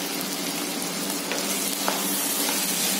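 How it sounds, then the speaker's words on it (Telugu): Chicken pieces fry in a pan for curry, giving a dense, steady sizzle with occasional crackles and stirring scrapes, close and continuous with no talk. "చూద్దామా చికెన్ ఇంకా బాగా ఫ్రై అవ్వాలండి"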